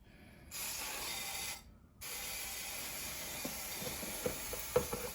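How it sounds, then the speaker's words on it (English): An aerosol can of brake cleaner sprays in two sustained hissing bursts on a Citroen C3 Picasso during an oil change, close and fairly loud, with a short pause between them and a few faint clicks afterward. "give us a spray down with some brake cleaner"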